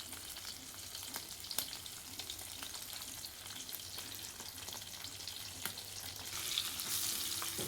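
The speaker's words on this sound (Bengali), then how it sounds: "এবারে এই যে মাছটা দিয়ে দেবো, এটাকে হালকা আঁচে ভাজতে হবে" Semolina-coated pomfret fish fries in oil over a low flame, giving a soft, steady, continuous sizzle with faint crackles, quiet and close, with no talking.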